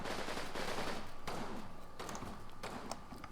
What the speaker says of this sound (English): That's fine, keep firing.